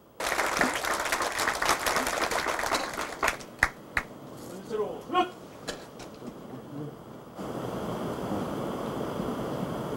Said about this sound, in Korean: 큰 박수로 모시고 여러분들의 경청을 바랍니다